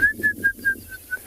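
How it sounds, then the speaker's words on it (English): A bearded woodpecker calls from the bush near a stream on a South African morning safari, giving a quick series of six clear, evenly spaced piping notes at moderate distance. "Hear a bearded woodpecker."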